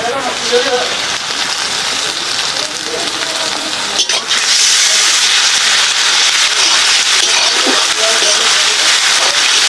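Garlic frying in oil in a pan with onions for a country chicken curry, a loud continuous hiss and crackle that swells midway, with a voice speaking over it.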